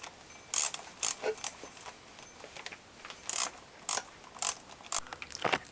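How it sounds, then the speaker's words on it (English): Socket ratchet tightening a bolt on a Yamaha R3 motorcycle: a run of sharp, bright ratcheting bursts, about nine separate clicks and short rattles spaced irregularly, close and fairly quiet over a low background. "Your socket here, and then tighten on the bolt all the way."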